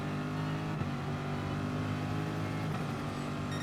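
A race car engine held at full throttle in Gran Turismo Sport on the Alsace Village circuit, a steady loud harmonic drone with a brief shift blip near the start and another near the end.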